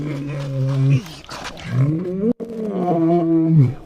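A male lion vocalizes close by with deep, drawn-out groaning roars, two long calls separated by a brief breath, loud and alone.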